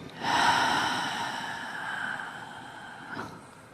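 One long, deep breath is drawn in and slowly let out during a meditation, airy and close, followed by a short sharp intake near the end.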